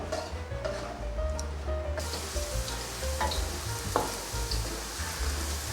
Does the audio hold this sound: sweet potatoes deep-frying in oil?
yes